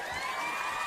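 A crowd at a live sports awards show cheers and whoops continuously, a dense wash of voices and applause heard from a moderate distance with no pauses.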